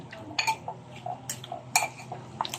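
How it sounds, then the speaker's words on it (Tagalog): Kilawin na tamban, a raw herring dish, being stirred in a dish after sugar is added, with several scattered clinks and scrapes of a utensil against the bowl, moderately close and without talk. "Tapos haluin na naman natin yan."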